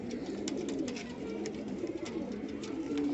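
Fancy English Saddle pigeons coo close by, a soft, low, rolling murmur that continues throughout with no talking.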